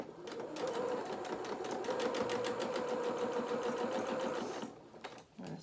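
A sewing machine runs a continuous, fast-pulsing stitch along the crotch seam of small doll culottes for several seconds, then stops, close and clear with no talking over it.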